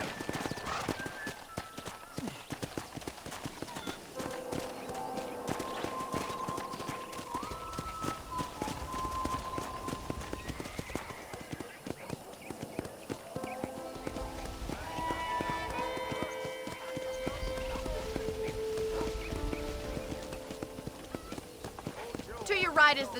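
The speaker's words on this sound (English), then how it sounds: "let's see if you can still ride a horse" Horse hooves clip-clop at a riding pace across a ranch in the Red Dead Redemption video game, rhythmic and moderately close, mixed with game music and frequent spoken dialogue.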